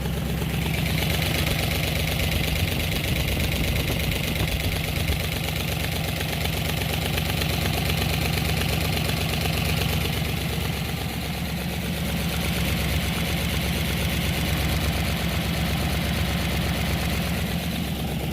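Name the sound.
V8 car engine idling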